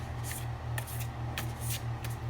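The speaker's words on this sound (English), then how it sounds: "give it another" Tarot cards being shuffled by hand in repeated soft riffling bursts, close and fairly quiet, over a steady low background hum with no talk.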